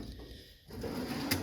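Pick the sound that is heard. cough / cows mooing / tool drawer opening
tool drawer opening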